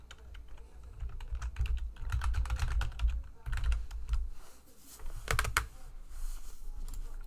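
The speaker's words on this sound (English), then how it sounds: "I'm typing something." Rapid, uneven clatter of keys on a computer keyboard, close and fairly quiet, in bursts with short pauses and occasional louder presses.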